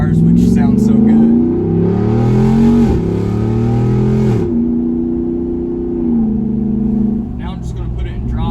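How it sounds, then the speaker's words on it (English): A straight-piped Jeep Wrangler Rubicon 392 with its SRT V8 roars loud and close as it revs up and settles, its exhaust tone rising and falling, with a voice over the start and finish. "whenever it burns up, obviously you'll get those small little backfires, which sound so good"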